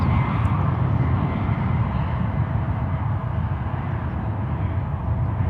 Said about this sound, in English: We got a 737 MAX 9 as well departing here